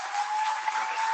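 An audience at a recruit's commitment watch party claps in a steady, dense burst of applause that fills the short moment.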